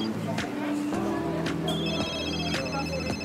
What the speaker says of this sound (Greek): Το τηλέφωνο που χτυπάει στον κόσμο έξω